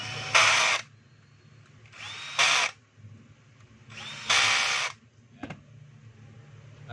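A power screwdriver tightens screws on a Black and Decker G720 4-inch angle grinder, giving three short whirring bursts separated by quiet pauses, then a brief clicking tap.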